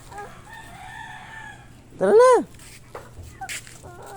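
A chicken gives a short clucking call near a person who speaks briefly, with faint other bird chirps and scuffling around it.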